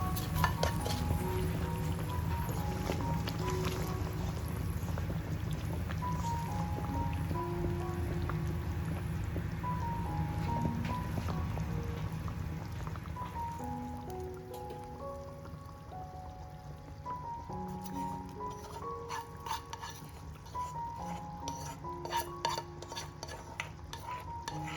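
Tempering is poured into a simmering varutharacha chicken curry, which is then stirred. A steady bubbling sizzle runs throughout, with light, repeated clinks and scrapes of a spoon against the pot.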